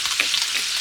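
Chicken fries in hot oil for KFC-style fried chicken, a dense, steady close crackle and sizzle with no pauses and no talking.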